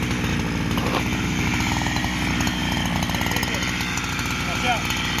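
A chainsaw runs close and loud in a steady high-revving drone, its rough engine note filling the whole stretch with little change.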